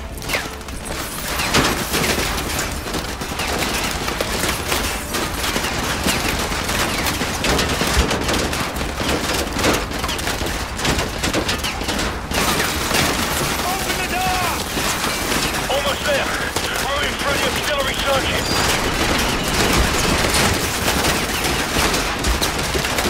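Machine gun fire in Call of Duty Modern Warfare 2, a dense, loud, continuous barrage of rapid automatic shots with mechanical clatter throughout, with battle voices calling out over it.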